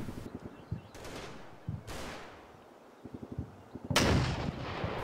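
Artillery fire in a tactical wargame: several broadband booms and rumbles spread over five seconds, with one loud close blast near the end, all against a steady low battlefield rumble and no talking.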